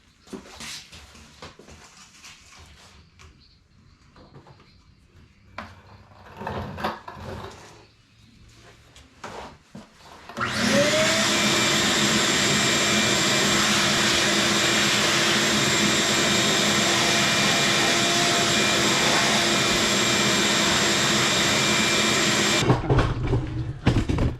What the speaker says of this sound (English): Go ahead and vacuum it up.